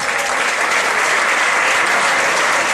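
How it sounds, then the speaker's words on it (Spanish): An audience claps loudly and continuously for a performance in northern Chile, a thick unbroken wash of applause from a large crowd close at hand. "Este aplauso es de Chile para los tailandeses."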